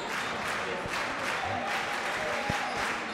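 A high school basketball student section claps in a small, noisy gym, a steady roar of hands and crowd noise with a few louder thumps standing out, no speech over it.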